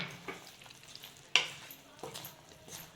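Sugar syrup for sesame chikki stirred in a pan over a low flame, giving soft scraping strokes and a faint sizzle, with a few sharper clicks of the spoon against the pan.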